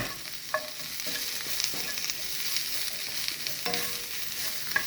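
Bok choy and chicken of the woods mushroom stir-fry in a pan with a continuous close sizzle, punctuated by a few soft utensil clinks and stirring scrapes, with no voices.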